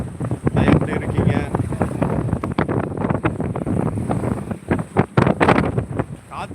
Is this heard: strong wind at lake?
yes